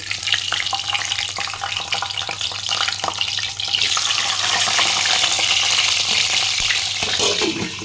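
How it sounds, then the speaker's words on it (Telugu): Boiled eggs fry in about two spoons of hot oil for an egg curry, browning toward golden. A loud, steady sizzle with crackling runs without a break and swells slightly partway through, with no voices. "ఇప్పుడు మనం ఎగ్స్ వేసుకుందాం"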